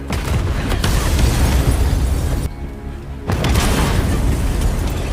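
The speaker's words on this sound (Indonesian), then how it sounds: "saluran gas LPG mengalami kebocoran. Sadar bahwa sebentar lagi akan terjadi ledakan" A loud, roaring blast from a leaking LPG gas line explosion rumbles on for seconds, dips briefly, then surges again into heavy, crackling noise.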